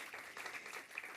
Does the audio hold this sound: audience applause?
yes